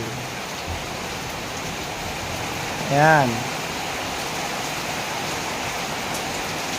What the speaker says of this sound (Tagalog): Sa wakas, umulan din.